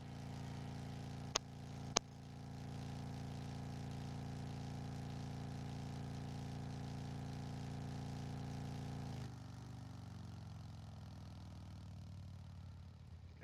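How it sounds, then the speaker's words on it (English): A Volkswagen Golf idles in a driving video game, a steady low engine hum with two sharp clicks near the start, the tone dropping and easing off toward the end. "It's a Golf."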